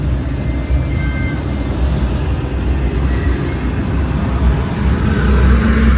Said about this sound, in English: It's the inner city traffic.